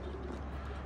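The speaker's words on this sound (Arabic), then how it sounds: "هاي وصلت الطيور." Homing pigeons arriving back at the loft, soft cooing carrying steadily through a faint outdoor background, no one speaking.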